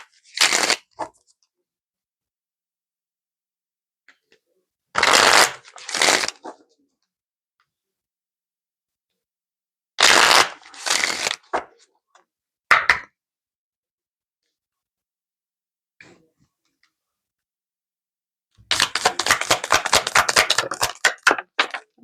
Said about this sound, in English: Let's pull a couple Isis Oracle cards here and see what she has to say to close this out.